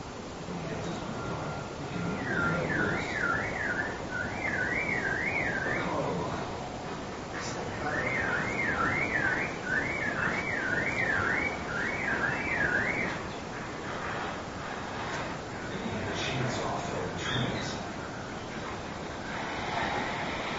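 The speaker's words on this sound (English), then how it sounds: "Did you hear the car alarm, the chainsaw, and the saw?" A car alarm wails in two rising-and-falling bursts over a constant rushing, windy background noise, fairly distant and moderately loud.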